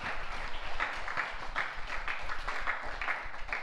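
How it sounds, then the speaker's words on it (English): An audience at a school morning assembly claps for a speaker, with steady, moderately distant applause and a light pulsing rhythm and no voice over it. "let's give Miss Mika another round of applause"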